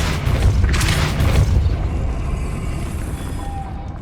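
A Depulso force spell from Hogwarts Legacy on PS5 lets off a deep booming blast that rumbles loudly, then trails off into a fading magical shimmer.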